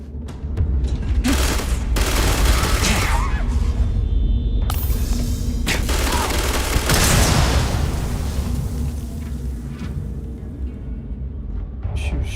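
In Starfield, an enemy ray weapon fires in several loud, harsh bursts mixed with other combat blasts, and the noise fades to a lower rumble near the end.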